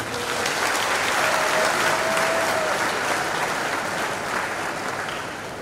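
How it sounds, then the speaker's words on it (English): Sustained applause from a crowd, loud and steady, gradually tapering off. "Please applaud him."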